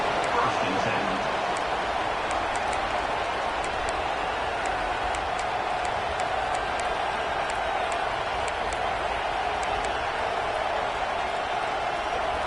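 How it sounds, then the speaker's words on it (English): A stadium crowd in the college football video game NCAA 25 gives a steady, dense roar that fills the whole clip, with a voice faintly over it. "This crowd ready to make its presence known."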